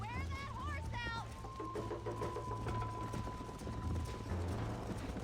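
Horse hooves galloping in the video game Red Dead Redemption, a quick rhythmic clip-clop that runs continuously under game music and a brief tonal whistle-like sound.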